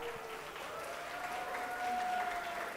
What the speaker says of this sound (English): Give your applause, guys.